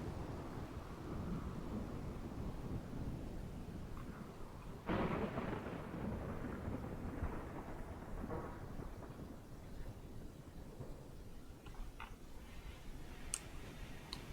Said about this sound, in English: as the rain starts to come down, we got a thunderstorm